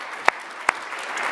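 Audience at an evening healthcare talk applauds the guest speakers, a soft continuous patter of clapping with two sharp, louder claps standing out close by.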